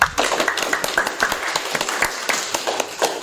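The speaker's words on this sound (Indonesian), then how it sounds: "Tepuk tangan dong." An audience applauds at the close of a podcast interview, a dense continuous patter of many hands clapping together, loud and close, with no talking over it.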